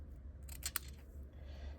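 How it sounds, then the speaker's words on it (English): Ribbon scissors snip through ribbon in a few quick, faint close cuts, with two or three crisp clicks bunched together over a low steady hum. "now I got to get my ribbon scissors out"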